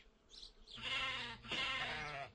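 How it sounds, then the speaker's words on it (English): A sheep bleats twice in succession, two clear wavering calls, close and fairly loud, with no talk over them. "Here is a sheep."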